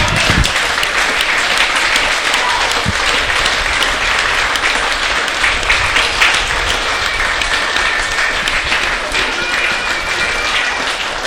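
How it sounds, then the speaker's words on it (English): Sustained applause from rugby players of both teams clapping a player off the ground at the end of a reserve grade grand final, steady and fairly loud throughout with crowd murmur and occasional voices underneath. "Good to see both teams clapping the guy off."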